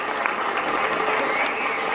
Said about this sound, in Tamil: திண்டுக்கல் பாபிக்கு உங்களுடைய ஒட்டுமொத்த கரகோஷத்தையும் செலுத்தலாம்